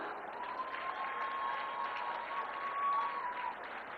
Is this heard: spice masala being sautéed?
no